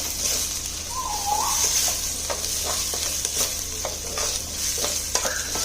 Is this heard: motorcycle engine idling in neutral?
no